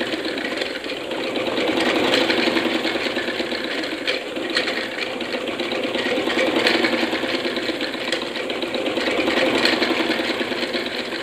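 A sewing machine stitching the hem of a salwar runs continuously with a steady whirring hum and faint rattle, close and even in level throughout, alone without speech.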